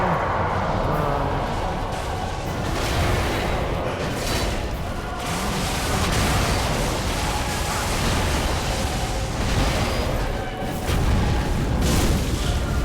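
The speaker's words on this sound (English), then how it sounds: "Explosion." Explosions from the video game Dark Souls 3 rumble in a dense, continuous stream of booming bursts, loud and close, with heavy low-end impacts layered under ongoing game noise.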